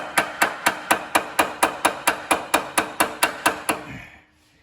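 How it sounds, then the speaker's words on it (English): A hammer taps a rusted, stuck part on a Craftsman snow thrower: about sixteen sharp metallic blows in a quick, even rhythm, close and loud, then silence. "I'm gonna tap it while I'm pulling on it with my one arm."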